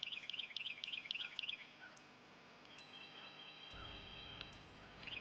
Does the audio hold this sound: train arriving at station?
no